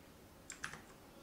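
A cheap mechanical keyboard gives a quick burst of three or four crisp key clicks, very faint and close, in an otherwise quiet room.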